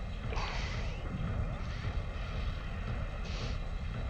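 A manually driven mech in Steel Battalion, a heavy, steady mechanical roar with droning engine noise and a few whooshing swells, loud and continuous without voices.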